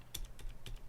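Clicky mechanical keyboard switches pressed in quick succession, about five crisp, close clicks spread over a second against a low steady hum, with no talking.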